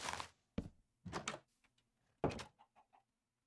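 Wooden door in the Minecraft video game opening and closing, giving several short knocking thunks with small clicks trailing after, close and clear, no talking.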